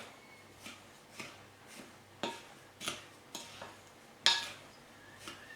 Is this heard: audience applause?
no